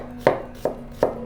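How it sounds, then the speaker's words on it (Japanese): A knife chops onion into thin slices on a cutting board: three crisp, close knocks spaced evenly about 0.4 s apart, each one short and clear over quiet surroundings. "ではまず玉ねぎの方を切っていきたいと思います。"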